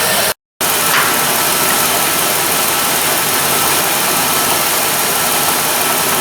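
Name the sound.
Jeep Liberty engine idling while warming up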